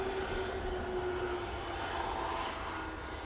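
An airliner comes in to land at Manchester Airport on a windy day, its engines giving a steady moderate drone with a faint whining tone fading across the few seconds.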